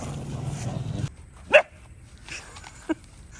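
A dog on a small farm gives a single sharp bark, fairly close, followed a moment later by a short, fainter yip against quiet outdoor background noise.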